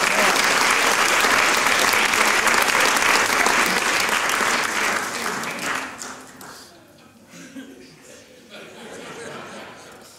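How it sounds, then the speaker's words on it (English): A church congregation applauds loudly, with dense clapping hands and some chuckling from the crowd. The clapping fades partway through to a quieter murmur of voices. "clap your hands and say praise the Lord"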